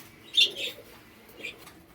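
Pigeons for sale make two soft coos and chirps close by, one near the start and one near the end, over a quiet background.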